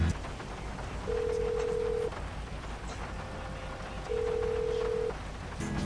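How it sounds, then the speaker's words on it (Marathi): In Grand Theft Auto V, a phone call rings out as two even, sustained electronic tones separated by a pause, clear and alone over a quiet game background. "त्याला फोन करतो तो काय म्हणते बघतो"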